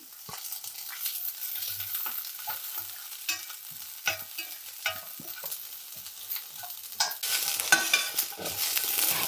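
Chopped onions, added after peas, sizzle in a hot pan while a utensil scrapes and stirs in irregular bursts, with a soft, continuous frying hiss underneath.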